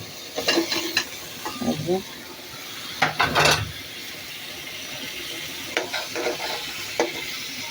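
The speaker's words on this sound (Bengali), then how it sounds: "এখন আমি এগুলো দিয়ে দিচ্ছি, টমেটো আর লাউ, বাংলা লাউ।" Tomato and Bengali bottle gourd tipped into a hot frying pan, giving scattered bursts of sizzling and stirring clatter over a steady background hiss.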